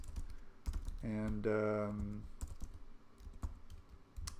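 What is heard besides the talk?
typing on a computer keyboard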